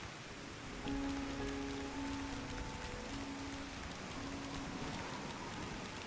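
Steady in-game rain from Final Fantasy XIV: Endwalker hisses continuously at moderate level, with faint sustained tonal music or ambience layered underneath and no voices.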